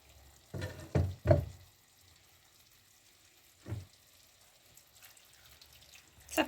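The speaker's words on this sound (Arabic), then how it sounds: "وغنضيفوا عليه الماء سخون" Hot water is poured into a sizzling Moroccan tagine with peas, making a few short, close bursts of splashing sizzle separated by quiet gaps, then a final burst.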